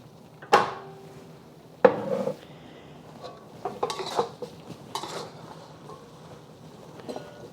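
Pork belly stir fry being scraped from a pan back into a bowl produces several sharp clanks of utensil on cookware, followed by lighter scraping and clinking, spaced irregularly.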